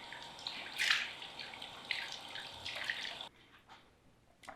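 Warm tap water runs and splashes softly at a sink during a face rinse, a faint, uneven trickle with a few louder splashes before the flow drops away near the end.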